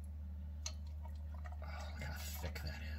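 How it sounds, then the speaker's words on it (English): Beef broth and a little ginger ale poured into a glass of ice, with soft liquid splashes and drips building toward the end over a steady low hum. "I'm gonna pour it into a glass with ice."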